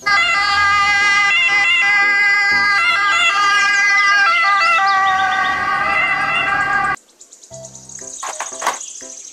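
A toy ambulance sounds its electronic siren, a loud wailing tone that sweeps up and down for about seven seconds, then cuts off abruptly and leaves quieter scattered chirps and beeps.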